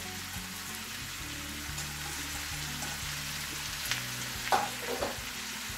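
Red and green peppers fry in a hot pan for chicken chow mein, giving a steady close sizzle. A few louder stirring clatters come near the end.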